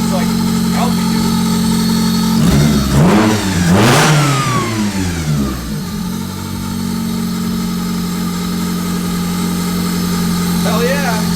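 Honda Del Sol engine running loudly after revival, a steady close idle with a sharp rev climbing and falling midway before settling back to a rough, loud idle.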